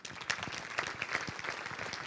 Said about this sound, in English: So again, a round of applause for all of them.